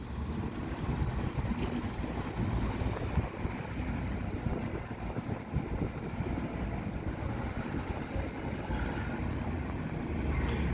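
Fast, heavy river water rushes through the Brantas river at the Wlingi Raya dam during sediment flushing, a steady loud roaring wash with constant turbulence and no voices.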